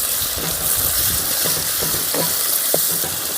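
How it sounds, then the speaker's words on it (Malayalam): Onion dropped into hot oil with popping mustard seeds for a Kerala fish curry, a steady loud sizzle and hiss with scattered crackles and a few stirring clicks throughout. "കടുക് പൊട്ടി കഴിഞ്ഞിട്ടുണ്ടെങ്കിൽ ഈ ഒരു സവാളയില്ലേ അത് ഇടാം"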